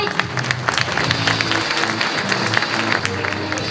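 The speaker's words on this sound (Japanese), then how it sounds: "大きな拍手でお迎えください。" Applause from an audience at a Hiroshima forum event welcoming the navigator on stage, steady clapping sustained throughout with faint voices and music-like tones underneath.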